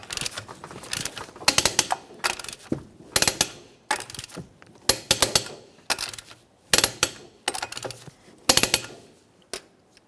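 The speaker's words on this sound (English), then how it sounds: "we'll be torquing these in a crisscross manner" Torque wrench clicking as wheel lug nuts on a 2007-2017 Jeep Patriot 2.4L are tightened in a crisscross pattern, giving repeated close bursts of sharp ratchet clicks separated by short pauses.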